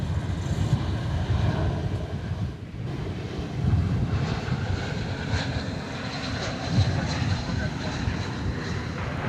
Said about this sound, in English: the arrival of this Asiana Cargo 747 coming in on the east side of the airport